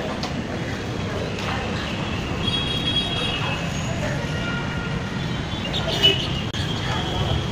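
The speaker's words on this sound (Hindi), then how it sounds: "दिल्ली गेट मेट्रो स्टेशन आ चुके हैं" A metro train passes at Delhi Gate metro station, with a steady loud rumble of wheels on rails and brief high squeals throughout, and traffic noise mixed in.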